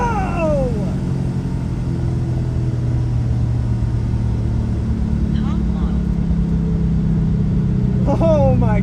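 A 650 whp Mustang on a drag strip gives a loud, steady, deep engine rumble that fills the whole stretch, with voices and brief sharp sounds over it.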